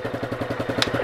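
A kick-started motorcycle engine putters in a quick, steady rhythm, close by, with a sharp clatter near the end.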